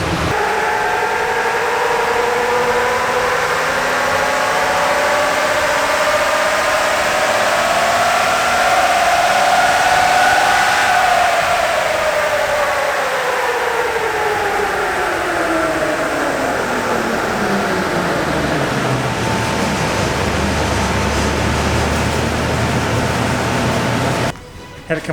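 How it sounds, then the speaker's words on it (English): A 4WD engine roaring on a dyno, a loud sustained drone that climbs steadily in pitch, then winds down as the revs fall, ending abruptly. "So just done dyno run."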